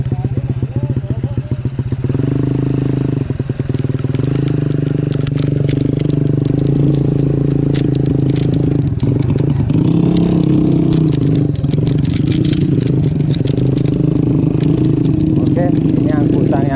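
A motorcycle taxi works along a farm road in a rural village, its engine droning steadily and loudly throughout with rough revving near the start and continuous mechanical rumble.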